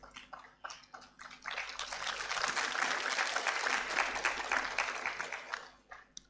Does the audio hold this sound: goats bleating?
no